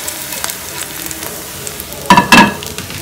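Edible gum (dink) frying in plenty of ghee in a large pan gives a faint steady sizzle, then a couple of louder, close stirring scrapes near the end.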